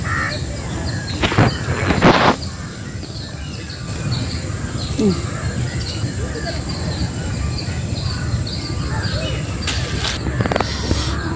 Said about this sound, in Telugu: కాకి ఉడతని పట్టుకొని పోయేకి వచ్చింది